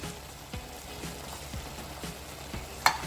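Minced mutton keema sizzling and frying in a pan over a medium flame, a steady soft crackle with faint periodic stirring taps and one sharper clink near the end.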